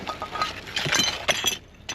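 Shards of a broken ceramic bowl clink and rattle against each other while being handled in a dumpster bin, with several bright chinks in quick bursts and a final clink after a short pause.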